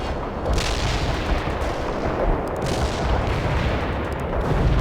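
Anti-tank strike in World in Conflict: dense continuous barrage of explosions and crackling gunfire, loud and rumbling throughout, with sharp impact bursts layered in; no talking.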